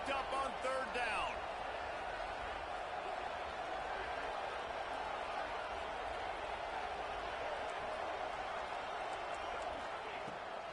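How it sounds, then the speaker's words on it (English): A stadium crowd in a College Football video game roars steadily on a 3rd down, a dense, sustained wash of cheering with a few sharp thuds early, while a commentator talks over it. "Crowd getting this defense whipped up on 3rd down."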